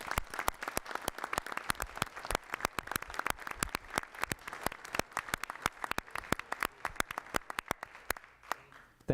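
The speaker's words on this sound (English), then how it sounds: "give Malia a round of applause for her great service on the board." Applause fills a village board meeting in La Grange. Many hands clap at once in a dense, steady patter that runs for several seconds before thinning out near the end.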